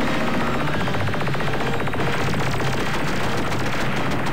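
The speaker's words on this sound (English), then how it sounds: "every time you shoot, you actually fire the handgun and or the machine gun or whatever, and the rockets" Machine gun fire rips continuously in Ultimate Crab Battle, a loud, dense stream of rapid shots with no pause, alone without talk.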